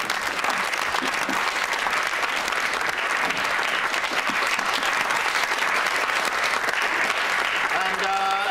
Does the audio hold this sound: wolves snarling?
no